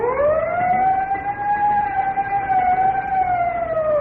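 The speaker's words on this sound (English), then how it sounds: "Whenever you hear the siren and bell" A wailing siren from a Texaco Fire Chief radio broadcast rises and holds steady across four seconds, loud and continuous, with no distinct bell strikes standing out.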